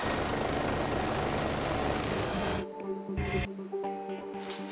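A rescue helicopter lands at Waikanae Park, its rotor and engine roaring loud and close at first, then the broadband noise abruptly cuts to a thinner whine and humming tones.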